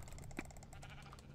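Sheep bleating in a video game: a short, faint, wavering bleat with a steady harmonic buzz, heard alone over a low background hum.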